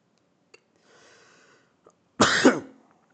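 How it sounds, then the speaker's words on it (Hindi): A single close, harsh cough bursts out loud after a few soft breaths and small mouth sounds in an otherwise quiet room. "मुझे खांसी इतना क्यों हो रहा है?"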